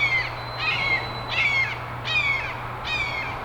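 Two hawks call outdoors, giving four high, drawn-out cries at a steady pace over a low constant hum, with no talking.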